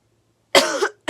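A single harsh cough from a nearby person with a stuffy nose, loud and abrupt, followed by the start of a second cough.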